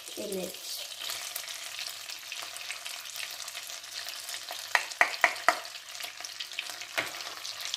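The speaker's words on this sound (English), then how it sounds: "And now we're gonna put the garlic in it." Garlic fries in a pan for buttered shrimp, giving a steady, even sizzle with a few sharp clicks of a utensil against the pan partway through.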